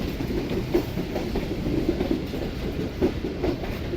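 Karakoram Express rolling along the rails on a cold winter run toward Faisalabad, with a steady rumble and rhythmic clickety-clack of wheels over rail joints, heard close and continuous.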